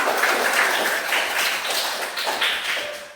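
Group of children clapping together in a classroom, a steady dense patter of many small hands close by, continuing for several seconds with no talking over it.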